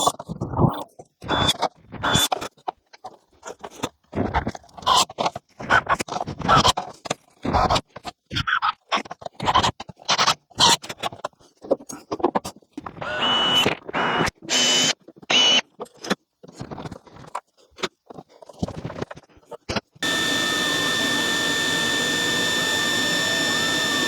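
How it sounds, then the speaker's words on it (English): A power drill whirs in short, repeated bursts as it drives screws into a wooden display case, each burst stopping and starting in an uneven rhythm, followed by a steady continuous hum near the end. "let me drill them"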